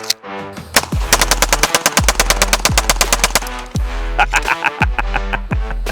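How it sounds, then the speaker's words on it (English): A Gibson Custom Guns Praetorian rifle fires at a shooting range in loud, rapid full-auto bursts, several strings of sharp cracking shots separated by brief gaps. "first shots with the Gibson Custom Guns Praetorian, aka Old Gordo"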